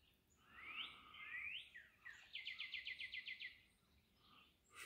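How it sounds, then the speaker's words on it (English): A songbird sings in the early morning beside a lake, faint and somewhat distant: a couple of rising whistled phrases followed by a rapid trill of repeated chirps over quiet outdoor ambience. "Birds have all woke up."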